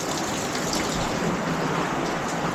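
Water rushes steadily down a drain that was just cleared of a clog, a constant loud gushing wash with no talking over it.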